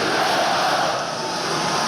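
A college hockey arena crowd roaring in a chant at an Omaha versus UMass game, a loud sustained wash of massed voices that fills the space without a break.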